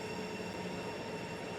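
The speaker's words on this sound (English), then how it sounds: "Class 395 Javelins, made by Hitachi Rail" Steady rumbling rolling noise of a Class 395 Javelin high-speed electric train built by Hitachi Rail, Southeastern service from London to Faversham in Train Sim World 2, a continuous near interior drone with wheel hum and faint tonal whine.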